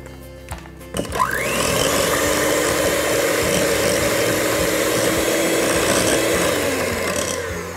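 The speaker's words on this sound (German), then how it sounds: "Und schlage sie mit dem Mixer schaumig." An electric hand mixer beating eggs in a mixing bowl starts up after a few clatters and whirs steadily, its motor whine holding a constant pitch as it beats.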